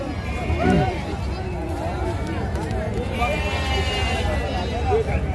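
Goats and sheep bleat repeatedly at a busy Friday livestock market in Gudur, with calls layered over steady crowd chatter and people talking nearby.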